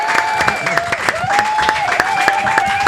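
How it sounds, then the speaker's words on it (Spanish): A studio audience applauds after a labor lawyer's interview, giving a few seconds of loud, continuous clapping with cheering under a sustained tonal hum, close and dense throughout. "Un aplauso."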